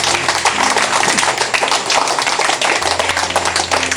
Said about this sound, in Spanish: ¿Cuántos pueden aplaudir al Señor Jesús?